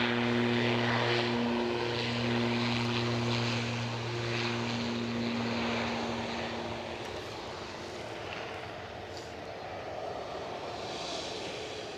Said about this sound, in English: Ooh, another BizJet.